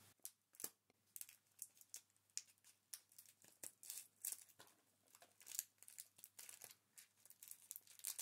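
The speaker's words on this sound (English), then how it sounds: "So I'm gonna cut it open." A crinkly plastic snack package from Poland is cut open with scissors up close, a quiet run of sharp snips and crackling rustles repeating in irregular bursts.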